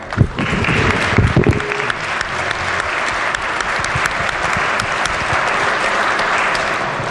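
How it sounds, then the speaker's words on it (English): Sustained applause fills the West Virginia legislature chamber as members clap for visiting Silver-Haired Legislature guests, a few louder claps up front before settling into a dense, steady roar. "everybody please give them a round of applause"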